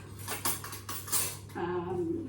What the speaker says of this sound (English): All right, so then we're going to stir that up.